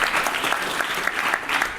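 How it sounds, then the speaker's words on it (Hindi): Vigorous clapping from participants at a block-level youth parliament session, a dense, even round of applause with no talk over it. "तो इसके लिए आप अपने लिए जोरदार तालियां बजा सकते हैं"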